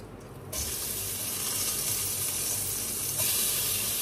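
Onions dropped into a hot pan burst into a loud, hissing sizzle that holds steady and then grows brighter and more intense near the end, with no talking over it.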